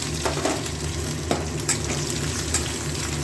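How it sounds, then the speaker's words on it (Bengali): Ginger and green chili dropped into hot oil left over from frying potatoes produce a loud, constant close-up sizzle with occasional small pops. "এবার দিয়ে দেবো এই তেলের মধ্যে আদা আর কাঁচা লঙ্কা একটা ফেলে রেখেছি"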